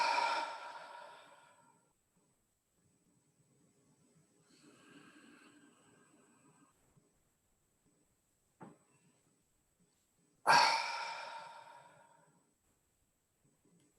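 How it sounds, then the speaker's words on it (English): A group of people slowly taking deep breaths together, two long airy exhalations several seconds apart with softer breathing between them, close and quiet, with no speech. "I'm going to invite you to take 3 deep breaths for us to be reminded of our breathing."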